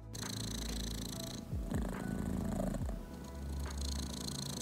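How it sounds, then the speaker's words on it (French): A three-month-old female kitten purring close up, a continuous rumbling purr with rhythmic breathing cycles and no voices. "comment résister à un ronronnement pareil ?"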